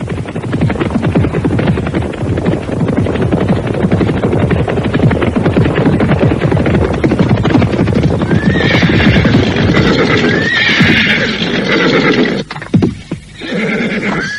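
A horse neighs and whinnies loudly over the steady clip-clop of hooves in a radio drama scene. Several shrill whinnies rise near the end above the constant trotting rhythm.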